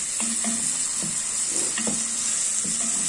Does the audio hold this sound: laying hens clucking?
no